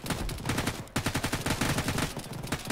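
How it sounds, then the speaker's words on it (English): Rapid, unbroken automatic gunfire in the ArmA military video game, a close, loud machine-gun stream firing continuously with no pauses. "I basically cannot stop shooting here"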